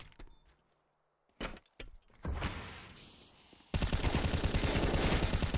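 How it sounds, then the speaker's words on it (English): Gunshots in a Counter-Strike match fired through a smoke cloud: a few sharp isolated shots after near silence, then a dense, loud burst of rapid automatic fire that keeps hammering to the end. "just a few shots through the smoke from DemQ"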